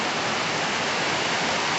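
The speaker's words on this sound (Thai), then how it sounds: "ฝนตกอย่างแรงเลย" Dense, roaring downpour of heavy rain, a steady loud hiss with no breaks.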